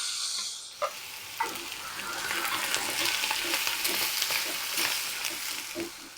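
Onions and tomatoes sizzle in a pan, with a steady frying hiss and occasional scrapes and taps of a spoon stirring them, close and continuous.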